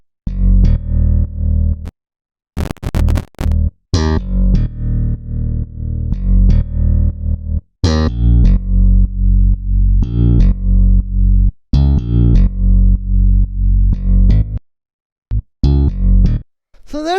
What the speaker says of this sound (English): After that, we have this electric bass, which sounds like this.